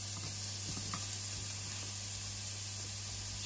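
Oil sizzles steadily in a wok with aromatics and peppers, under a constant low hum from the stove or hood. A few faint utensil taps sound over the hiss, and nobody talks.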